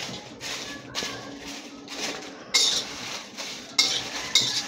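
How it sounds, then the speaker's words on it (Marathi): Whole spices such as stone flower and bay leaf are dry-roasted in a pan with a little oil over low flame, with a spatula stirring and scraping in repeated strokes and a few sharper clinks over a faint sizzle, close by and without talk. "कमी गॅस करायचा आहे, थोडं तेल टाकायचं आहे, दोन्ही असं मिक्स भाजून घ्यायचं आहे।"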